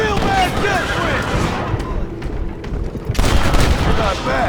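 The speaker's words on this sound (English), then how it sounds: "They're shooting right at me." Gunfire in a Red Dead Redemption shootout, dense crackling shots and bangs under someone talking, with a brief lull before the firing picks back up.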